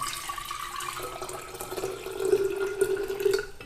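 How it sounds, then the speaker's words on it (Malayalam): Boiled salt water poured from a container into a bottle for storing green chillies, a steady close running-water stream that rises in pitch and strength toward the end, with no talk. "ഇതിനകത്തോട്ട് നമ്മൾ ഉപ്പിട്ട് തിളപ്പിച്ച വെള്ളം കുറച്ച് ഒഴിച്ചു കൊടുക്കുകയാണ്"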